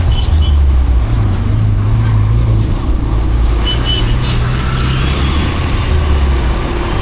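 Road traffic rumbles steadily and loudly with a mix of engines passing nearby and no speech.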